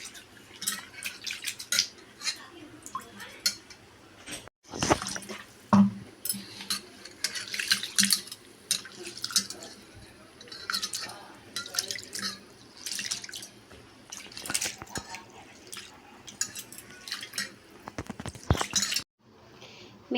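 Ingredients for egg biryani are rinsed in one to two changes of water in a kitchen sink, with running tap water, splashing and dripping, and the occasional clink of a bowl or vessel, steady and close with no talking.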